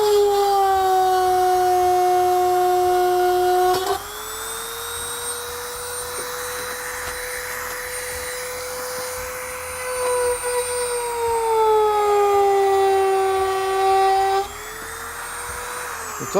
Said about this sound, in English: I've decided to use the Dremel tool after all